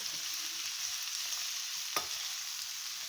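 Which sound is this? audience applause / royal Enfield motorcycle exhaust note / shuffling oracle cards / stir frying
stir frying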